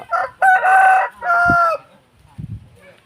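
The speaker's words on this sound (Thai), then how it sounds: "นี่ก็เป็น ไก่ สีแดงเนาะไก่พม่า" A Burmese red game rooster crows loudly and close by in a few drawn-out, strained bursts, followed by softer clucking.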